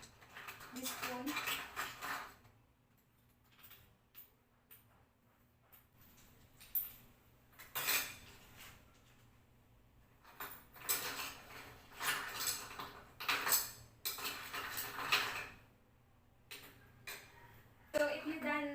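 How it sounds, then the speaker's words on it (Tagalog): A spoon scoops ice into an ice bag in short, separated bursts of clinking and scraping, close and fairly quiet, with pauses of near silence between scoops. "So I'm going to fill the ice bag using this spoon."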